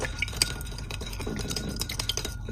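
A spoon stirs a sauce of ginger garlic paste, soy sauce, dark soy sauce, sugar, oyster sauce and water in a bowl, giving steady close clinking and wet swirling throughout.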